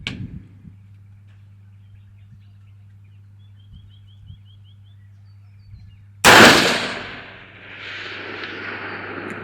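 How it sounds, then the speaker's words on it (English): A rifle shot at a carbine match prep range is followed by a distant target impact. A sharp, loud broadband crack bursts out after a quiet stretch with a low steady hum, then decays into a long rolling echo. "I think that was an impact, yeah."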